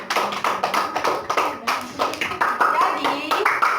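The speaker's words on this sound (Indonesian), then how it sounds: "Betul sekali, tepuk tangan buat Solia." Primary school pupils in a classroom clap for a classmate, with fast rhythmic bursts of hand claps close to the microphone and a mix of children's voices calling out over them.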